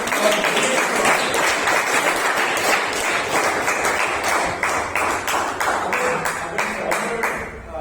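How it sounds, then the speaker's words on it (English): A Toastmasters club audience in Bangalore gives a round of applause. The clapping is continuous and fairly close, with individual claps standing out sharply in the later part. "So give her a round of applause."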